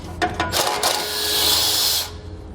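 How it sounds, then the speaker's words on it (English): A 10mm socket works a nut loose during a Roadmaster base plate install on a 2017 vehicle: a few quick clicks, then a short tool whir lasting under two seconds, fairly close. "We're going to have one nut here we need to remove with a 10mm socket."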